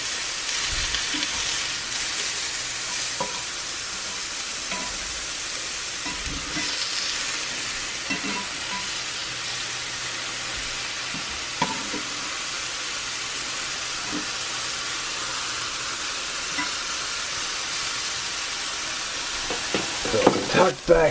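Ground beef frying in a cast iron skillet, a steady sizzling hiss that runs the whole time with occasional soft knocks and stirring, and a few louder clatters near the end.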